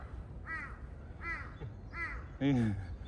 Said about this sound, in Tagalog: kaya pala uwak ang tawag natin kasi ang sigaw nila wak, wak.